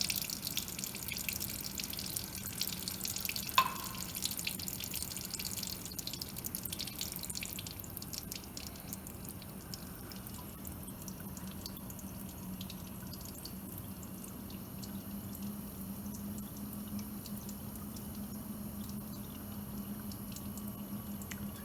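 Acetone rinse, about 10 mL at a time, trickling and dripping through a filter at a lab bench during a copper chloride experiment; a faint, steady wash with one brief splash near the start.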